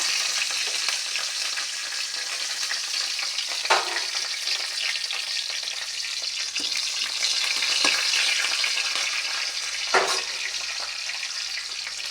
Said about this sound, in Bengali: এখন দিয়ে দিচ্ছি কাঁচা লঙ্কা